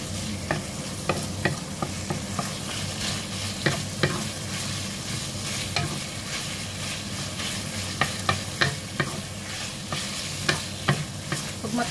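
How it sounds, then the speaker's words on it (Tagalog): Beef stir-fried quickly in a hot pan, a steady sizzle with frequent sharp spatula scrapes and clatters at a brisk, uneven pace, close by and without speech. "Ang pag-fry po ng beef po ay dapat na mabilisan po."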